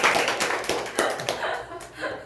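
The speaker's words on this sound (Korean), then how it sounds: "박수 한번." A small group claps for a correct quiz answer about savings deposit interest rates, a few quick irregular claps close by with light laughter and talk around them.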